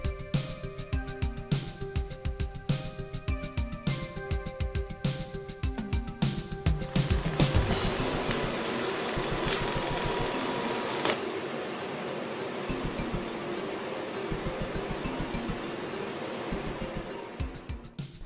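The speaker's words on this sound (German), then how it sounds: "Der Schweißvorgang beginnt am ersten Punkt." A stationary SIGMA laser welding machine runs a line profile sequence, giving faint rapid ticking pulses and mechanical clicks, then a steadier low hiss with a fan-like hum in the background.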